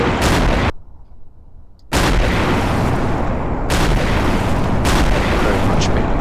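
High-explosive shells fired from an ACF artillery cannon in Garry's Mod, a run of loud booming blasts with a sharp crack at the start and fresh reports near two and four seconds, separated by a short silent gap.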